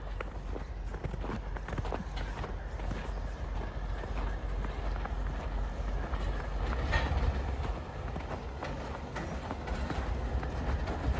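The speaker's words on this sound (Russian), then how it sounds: "О, поезд едет." A train rumbles past nearby in Ust-Ukhta, Komi Republic, with a steady, dense low roar and faint rattling, continuous throughout with no voices.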